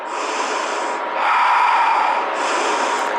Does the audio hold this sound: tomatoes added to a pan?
no